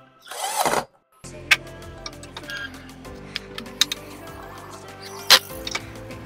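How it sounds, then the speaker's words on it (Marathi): A screwdriver tightens the screws holding a TrueView solar CCTV camera onto its mounting plate. A short rustling burst comes first, then sparse, close ratcheting clicks and small ticks over a low steady hum. "स्क्रू थोडेसे स्क्रू ड्रायव्हरने टाईट करून घेऊ शकता तुम्ही"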